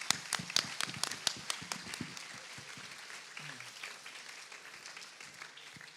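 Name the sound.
audience applause at conference opening ceremony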